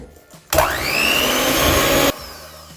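A kitchen blender whirs through peanut butter in one loud, steady run of about a second and a half, its motor pitch rising as it spins up, then cutting off abruptly.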